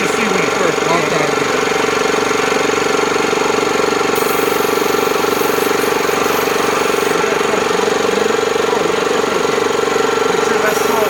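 A Bauer high-pressure air compressor runs steadily and loudly for the whole stretch, a constant mechanical drone with rapid pulsing strokes as it builds pressure.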